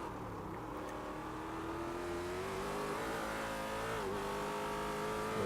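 A race car in the iRacing video game brakes on a circuit, its engine drone holding steady and then its pitch dipping and wavering as speed drops, continuous and fairly quiet, with no talking.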